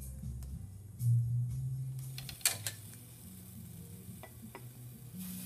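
Food sizzling and being stirred in a small personal hot pot at a Vietnamese restaurant table, a steady low bubbling hiss with a few sharp clinks of utensils, close and moderately quiet, no talking.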